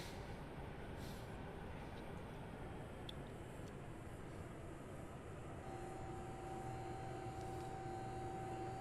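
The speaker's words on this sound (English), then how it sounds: "We'll wait for that flight to take off." A jet taking off in the combat flight game Nuclear Option makes a faint, distant, steady engine roar that holds for several seconds, with a thin whine rising near the end.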